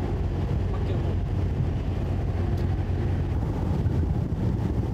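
Steady wind roars across the deck of a cruise ship at sea, a loud, continuous low rumble with no breaks and no voices.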